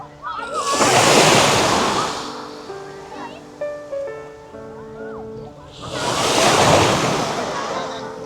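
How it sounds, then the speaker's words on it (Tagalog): Calm sea waves wash onto a public beach in Dubai, with two broad surges rising and falling a few seconds apart. Faint voices and soft tonal sounds drift in the quieter lull between them. "Ang kalmado ng dagat."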